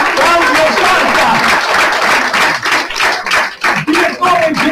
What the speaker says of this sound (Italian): qui vorrei un applauso spontaneo da parte vostra, Claudio Santa,